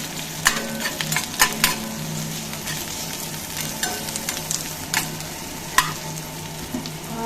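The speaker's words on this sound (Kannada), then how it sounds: "ಫ್ರೈ ಆಗ್ತದೆ" Ingredients for a chutney fry and sizzle in oil in a pan, with a steady crackle broken by sharp stirring scrapes and clatters, close and moderately loud, with no voices.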